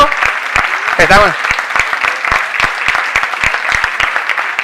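Audience at a travel conference applauds with loud, close, sharp individual claps in an uneven rhythm, while a voice briefly speaks over them.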